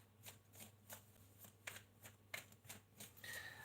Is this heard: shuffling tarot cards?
yes